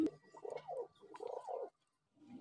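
Soft, faint cooing from high-flying Kalshira, Teddy and Murshidabadi Giribaz pigeons, including a male bird, in a few low, rolling phrases that break off briefly before resuming.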